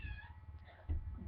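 A house cat gives a short, faint meow indoors at the very start, followed by quiet low rustling and handling noise.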